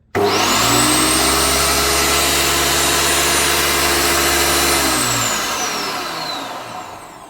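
Stark EGS-2245 electric grinder switched on, a loud steady motor whine and hum running for about five seconds before power cuts and it spins down with a falling pitch, close up with no talking.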